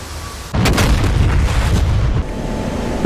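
A bomb explosion hits a target in the DCS World flight simulator, dropped from an F-16 Viper: a sudden loud, deep boom bursts in and then rolls into a sustained low rumble that trails off, with no voices.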